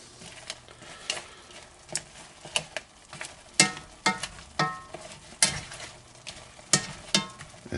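BBQ shrimp cook in a pepper sauce in a pan, giving a steady close sizzle broken by irregular clicks and scrapes from stirring.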